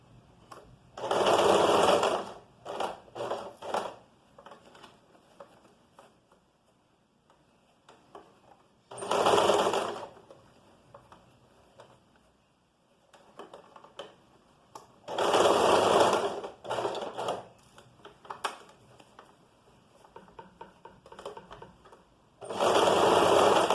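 A sewing machine stitches a sleeve seam, running in several loud bursts of fast mechanical whirring with quieter pauses between them.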